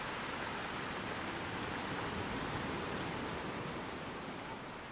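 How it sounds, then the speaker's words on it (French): Ocean waves rolling onto a beach, a continuous soft rushing wash that holds steady throughout, with no voices. "Pour la rejoindre, laisse-toi porter par quelques vagues."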